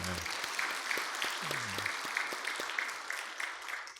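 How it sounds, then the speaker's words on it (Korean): A Korean church congregation applauds its student group during a Sunday morning service, sustained clapping that runs throughout, with a voice speaking over it in the middle. "우리 학생부 위해서 박수 한번 하겠습니다."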